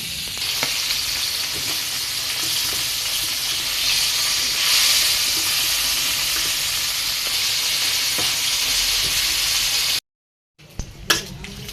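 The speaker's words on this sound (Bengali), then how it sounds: "মাছটাও ভেজে নিছি" Fish fries in oil in a pan with a loud, continuous close sizzle and occasional crackles for about ten seconds before cutting to near silence, followed by a few brief knocks.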